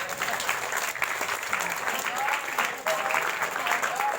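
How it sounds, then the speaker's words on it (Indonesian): An audience at a public lecture claps steadily, a moderate wash of applause with faint voices mixed in, lasting a few seconds. "Tepuk tangan untuk Dorowati."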